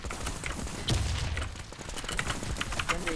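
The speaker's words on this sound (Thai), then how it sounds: "ปืนมันไม่ได้ยิงรัวนะแต่มันเป็นเสียงยิงรัว" Rapid gunfire in a video game crackles in a dense, continuous stream of sharp shots with a heavier boom near the start, fairly loud and busy throughout.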